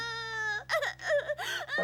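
Someone cries and sobs in broken, wavering bursts over a steady tonal musical background, with whimpering catches between the sobs.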